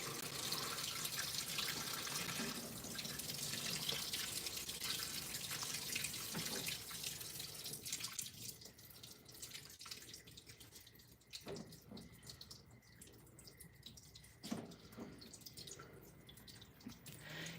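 Water rushing into a fully loaded washing machine during a normal cycle, a loud steady stream that thins out partway to trickling and dripping splashes.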